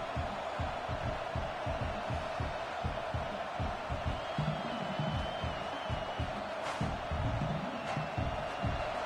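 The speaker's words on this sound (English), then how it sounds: "This crowd bringing the energy and noise early" A stadium crowd in College Football 26 roars on, a dense rumbling wall of cheering with a few whoops and whistles rising above it, continuous throughout.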